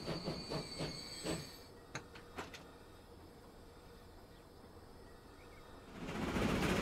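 A steam train in the game Transport Fever 2 runs along, giving a few rhythmic clanks and sharp metallic clicks, then a steady quiet rumble before a louder surge of hiss at the end.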